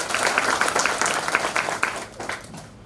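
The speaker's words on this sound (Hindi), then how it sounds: "भाई 20 बार ताली तो सबको बजानी पड़ेगी।" An assembly audience at an annual election event breaks into clapping, a fairly loud patter of many hands with uneven bursts that thin out toward the end.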